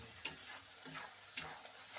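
Ground spice paste for catfish and potato curry sizzles and scrapes in a pan as it is stir-fried, with soft stirring strokes and a faint steady fry underneath, heard close and quiet.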